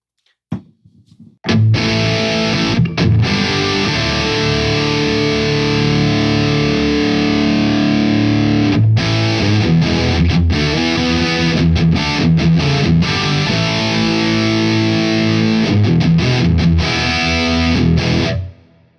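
Electric guitar played through a breadboarded Boss DS-1 distortion circuit, a continuous loud, heavily distorted riff of sustained chords and notes with brief breaks, over background noise.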